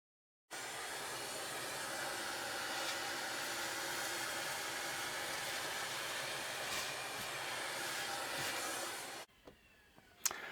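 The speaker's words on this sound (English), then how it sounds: "when I vacuum that up, all those little fingers will show" Vacuum cleaner running steadily, sucking up loose static grass from a model railroad right-of-way diorama; a continuous close whine that starts abruptly, holds for about nine seconds, then cuts off with a few small clicks.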